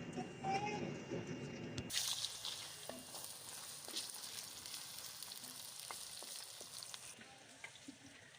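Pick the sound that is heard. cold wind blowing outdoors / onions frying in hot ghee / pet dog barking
onions frying in hot ghee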